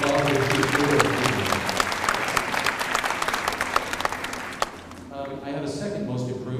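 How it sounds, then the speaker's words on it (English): Audience at a school choir concert applauding, dense sustained clapping that fades out toward the end, followed by a speaking voice. "You can give her a round of applause if she's here."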